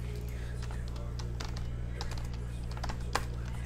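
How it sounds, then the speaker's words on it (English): Rapid typing on a computer keyboard, a dense run of light key clicks over a steady low background hum, close and continuous for several seconds. "Let me just type these in really quick because I want to keep them in order."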